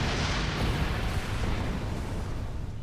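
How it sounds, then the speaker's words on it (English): A door breaching charge detonates in the video game Star Trek Online, producing a loud, dense roar of blast and rumble that fills the whole stretch and slowly fades, with no speech. "Somehow I miraculously survived that explosion."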